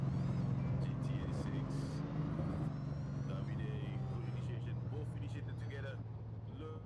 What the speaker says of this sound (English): We can hear the Supercharger whining